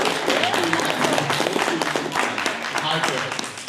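Convention panel audience giving a round of applause at a toy panel, steady crowd clapping that fills the room throughout, with voices mixed in.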